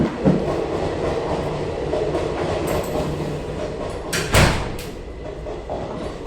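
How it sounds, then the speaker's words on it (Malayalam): A train rolls past nearby with steady rumbling and clattering wheels, and sharper bangs and rattles from the cars surge partway through. "ട്രെയിൻ പോകുന്നതിൻ്റെ ഒരു ഡിസ്റ്റർബൻസ് ഉണ്ട്."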